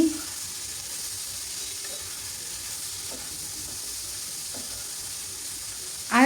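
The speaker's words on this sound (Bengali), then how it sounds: "রুটির সাথে কিন্তু চিচিঙ্গা ভাজি খুবই মজা লাগে দিয়ে দিলাম চিচিঙ্গা" Thinly sliced snake gourd sizzles quietly and evenly in a frying pan, a soft continuous hiss with a few faint scraping clicks and a brief louder scrape at the end.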